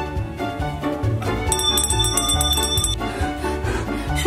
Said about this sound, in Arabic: الجرس.